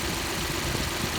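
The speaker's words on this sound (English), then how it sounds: "I hear the injectors ticking, and that's a good thing." A Ford F-150 truck engine idles steadily with a low, constant rumble and faint rapid injector ticking running through it, close by and without pauses.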